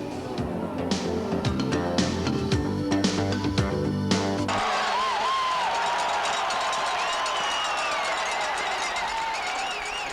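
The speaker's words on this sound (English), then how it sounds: "crowd is into it here at the Hartford Civic Center Coliseum" Loud hockey crowd at the Hartford Civic Center Coliseum during a 1992 Whalers playoff game: a dense, steady roar with rhythmic clatter at first, then wavering melodic tones over a continuous crowd wash.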